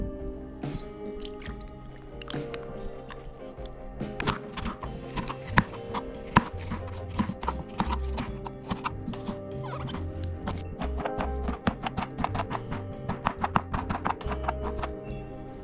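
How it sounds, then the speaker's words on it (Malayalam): A knife chops washed cucumber into small pieces on a board for kichadi, fast rhythmic taps that run steadily and close over background music, without speech. "ഇനി ഇത് നമുക്ക് കഴുകി എടുത്തതിന് ശേഷം ചെറിയ കഷ്ണങ്ങളായിട്ട് അരിഞ്ഞെടുക്കാം."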